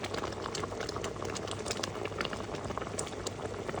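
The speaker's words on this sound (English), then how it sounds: "You can see again, you can see how the boiling's changing." Gooseberry jam boiling in a pan, a dense, continuous bubbling and popping that stays close and even throughout with no talking over it.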